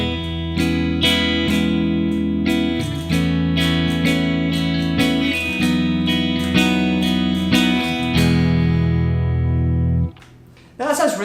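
A guitar strums a series of ringing chords in a steady rhythm, shifting through several changes before the last chord is cut off.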